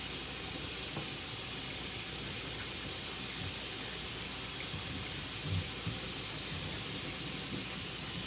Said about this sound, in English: rinse it out under the water